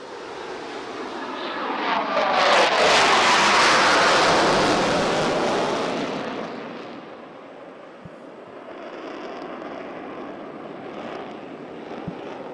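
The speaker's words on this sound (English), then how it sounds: "he performs a hard turn to display the superior turn capability of the mighty MiG-29 aircraft" A MiG-29 fighter jet at a Navy Day air display in Visakhapatnam roars loudly as it pulls a hard turn, the engine noise swelling to a broad blast before fading into a distant rumble.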